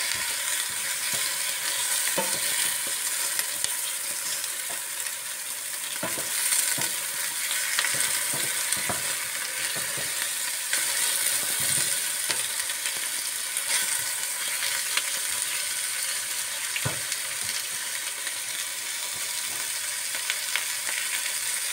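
Onion frying in a pan alongside aubergines for a Greek-style eggplant dish, a steady dense sizzle with crackling throughout and a few louder pops, no voices.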